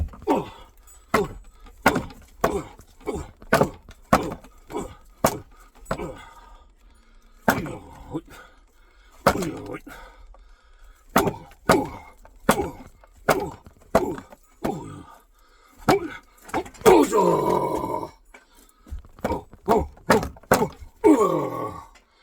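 Fast bare-hand strikes slap and thump a makeshift cardboard self-defense target in quick single hits and short bursts, sharp and close, spaced by brief pauses with some talk between.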